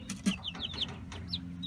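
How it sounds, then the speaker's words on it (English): Several chickens and roosters cluck in short, quick calls nearby, a few separate clucks in a row over a low background murmur. "I believe we got about 4 roosters in here"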